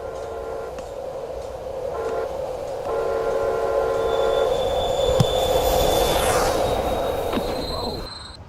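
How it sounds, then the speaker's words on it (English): A train rolls past on the tracks at a safe-crossing scene, a steady rumbling clatter of wheels with a rising squeal toward the end. "Look, the train."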